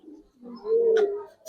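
A single Giribaz pigeon gives a soft, close coo, a low throaty rising-and-falling note lasting about a second, with no voices.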